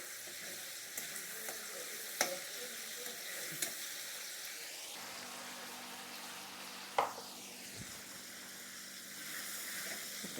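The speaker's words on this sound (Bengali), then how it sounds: "আমার টমেটোটা ভালো করে ভেজে নিচ্ছি" Tomato frying in a pan with spices for a Bengal-style ginger catfish curry, a quiet continuous sizzle with a few sharp spatula taps and stirring scrapes partway through.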